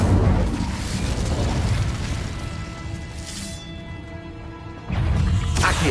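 An Incendio fire spell in Hogwarts Legacy erupts as a dense, roaring burst of flame that thins into a crackling tail, then a second roaring gust flares up near the end, loud and close.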